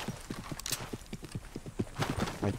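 Horse hooves clip-clopping in a steady rhythm in modded Red Dead Redemption, close and fairly loud, with a brief whinny partway through and no talk.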